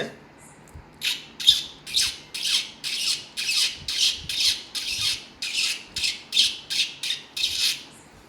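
A voice mimics a parrot, giving a run of about fifteen harsh, shrill squawks in a steady rhythm, close and fairly loud.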